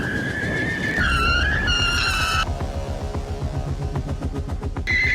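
Porsche sports car sliding in oversteer with countersteering during a driving clinic: sustained tire squeal with shifting pitch over a steady engine drone, fairly distant and continuous.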